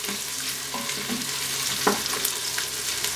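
Six garlic cloves sizzling in an Instant Pot, a soft, steady frying hiss with a few light stirring clicks, close and quiet, no talk.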